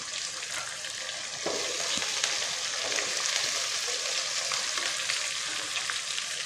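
Chopped medium onion sizzles and fries steadily in a pan, a dense continuous hiss with faint stirring clicks, loud and close throughout without any talk.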